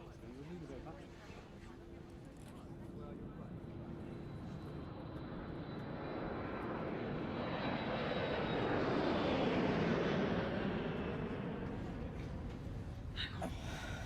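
Steady engine drone inside the cabin of an airplane in flight, a broad continuous roar that swells slightly in the middle, with faint voices beneath.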